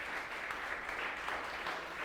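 A church congregation applauds during a sermon, a dense, even wash of many hands clapping at once, steady and moderately distant throughout with no clear voices.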